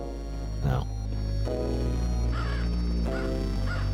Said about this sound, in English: let's kill the crow